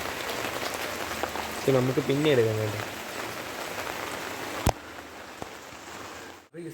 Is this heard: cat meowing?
no